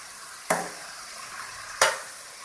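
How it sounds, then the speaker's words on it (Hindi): Masala for a red kidney bean curry fries in a pan, a low continuous sizzle broken by two sharp scraping strokes of a spoon being stirred through, the first early on and the second near the end. "हमारा मसाला बहुत अच्छे से भून चुका है।"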